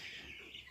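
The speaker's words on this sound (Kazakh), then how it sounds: "брудердегі инкубатордағы күрке тауықтарым шыға бастады" Newly hatched turkey poults cheep faintly and steadily inside a brooder incubator, a soft continuous high chirping with no break.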